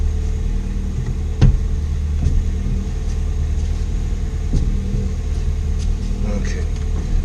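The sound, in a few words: Ford Fiesta ST engine on test drive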